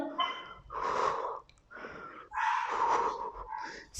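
Heavy, forceful exhaled breaths from someone doing a home HIIT ab exercise come in close, loud, breathy puffs with rough snorting edges, repeating in uneven bursts with no talking.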